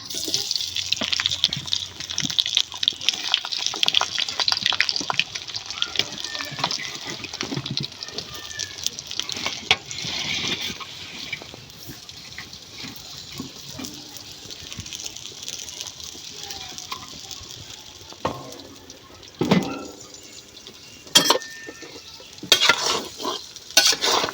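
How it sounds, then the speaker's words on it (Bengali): Mango pieces fry in hot oil in a large pan for pickle, a long continuous sizzle and bubbling broken by stirring scrapes and clatter, with occasional louder crackles near the end. "তেলটা আমার গরম হয়ে গেছে আর এখন দিয়ে দেবো এই তেলের ভিতরে আমগুলা"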